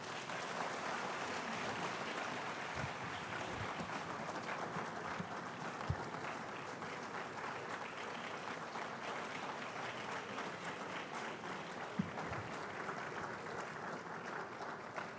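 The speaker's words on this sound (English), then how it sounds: "A louder round of applause to our Speaker, Honorable Osei Kyei-Mensah-Bonsu." Sustained applause from an audience at a public lecture on constitutional review in Ghana, steady and fairly loud across the whole stretch, with a few sharper individual claps standing out and no talking over it.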